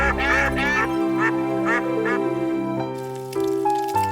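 Cartoon ducks in Oggy and the Cockroaches give a string of loud, nasal quacks in quick succession as they fly away, followed by bright tonal music notes.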